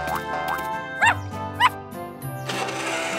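A cartoon dog gives a couple of short, bouncy barks amid playful music and sound effects in a children's animated show about helper cars.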